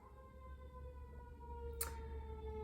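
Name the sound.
ambulance siren passing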